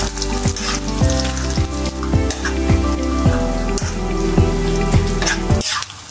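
Food sizzling and frying in hot cooking oil while a Mexican salad is made, a steady crackling hiss with repeated stirring clicks and scrapes throughout, close and fairly loud, cutting off abruptly near the end.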